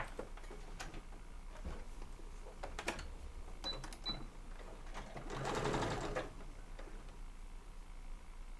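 A sewing machine stitches two cross-body bag linings together, quiet bursts of rapid mechanical ticking with a steadier run near the middle, heard close and alone.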